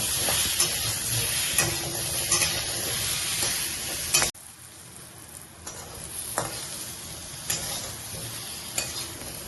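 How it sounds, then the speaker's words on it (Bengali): Brinjal pieces fry in hot oil with salt and turmeric in a kadai, giving a steady close sizzle and hiss with occasional stirring scrapes throughout. "এবার ভাজা করে নেব।"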